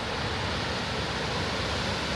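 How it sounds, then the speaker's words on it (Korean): Waterfall at the foot of Mount Fuji near Lake Tanuki in Shizuoka, a steady, dense roar of falling water that stays loud and constant throughout, with no voices. "얘는 진짜 늘 보던 그 폭포다."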